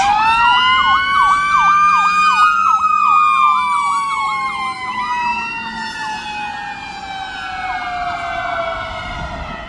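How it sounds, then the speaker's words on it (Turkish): An ambulance siren in Los Angeles wails up close, its rapid rising-and-falling yelp repeating steadily before shifting to a slower, drawn-out wail. "Ambulansmış arkadaşlar."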